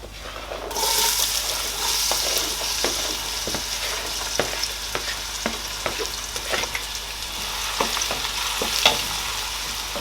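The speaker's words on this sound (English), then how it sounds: "I'm going to let the onions fry for 2 minutes." Onions sizzle and crackle steadily in hot oil for a Nigerian vegetarian stew, a broad continuous hiss with scattered sharp pops and spatters, close and loud, starting abruptly and running without talk.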